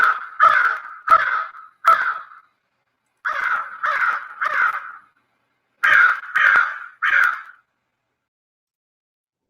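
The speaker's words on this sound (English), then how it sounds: "There go my crows going by." Crows flying past give loud, harsh caws in three bursts of three evenly spaced calls, separated by brief silences, then fall quiet. No one speaks.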